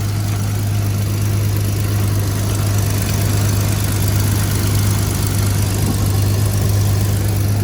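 A Jeep LJ engine idles with an exhaust leak and no coolant or radiator fitted, a steady loud low rumble with a constant drone and rough ticking texture running unbroken throughout, with no talk.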